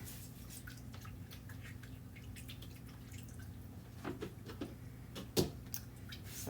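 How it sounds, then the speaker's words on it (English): A board eraser wipes water across a chalk board, giving faint, scattered drips and soft wet squishes, quiet and close, with one sharper splashy tap near the end. "I'm just washing that front off with my board eraser and some water."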